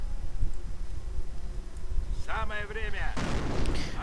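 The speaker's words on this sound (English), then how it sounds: "Troops are getting mortared." Mortar fire hits troops in a strategy war game, with a low rumbling barrage of thuds and blasts beneath a voice talking, the impacts heavy but muffled in the game mix.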